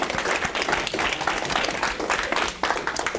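Audience applause fills the room, a dense, steady wash of many hands clapping at close range that holds for the whole stretch with no voices rising above it.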